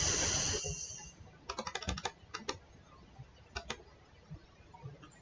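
Quiet keystrokes on a computer keyboard fixing a typo in a fractions maths exercise, several quick bursts of close clicks separated by pauses, no voice over them.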